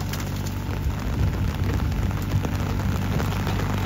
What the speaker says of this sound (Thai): ฝนก็ตกเอ้า